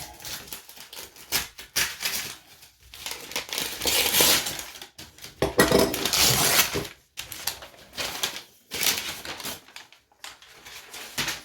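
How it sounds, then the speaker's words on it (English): Cardboard and paper packaging from a book subscription box being torn open, with rough ripping and crumpling bursts coming in irregular clusters close up and no speech. "It always pains me somewhat to destroy this packaging."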